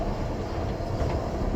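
Carriage interior of a steam train running from Port Erin to Douglas on the Isle of Man, a loud, steady low rumble of wheels and rails with faint rhythmic clatter, continuous and close, no talk.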